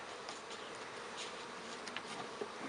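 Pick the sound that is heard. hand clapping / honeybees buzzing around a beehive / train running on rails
honeybees buzzing around a beehive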